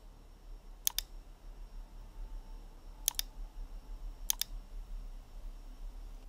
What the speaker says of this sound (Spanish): Vamos a hacer clic con el botón derecho del ratón